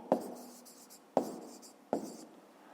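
A pen writing on paper in three short, distinct strokes about a second apart, quiet and close with nothing else around.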